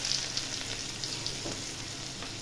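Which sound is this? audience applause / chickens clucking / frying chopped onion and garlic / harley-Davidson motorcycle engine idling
frying chopped onion and garlic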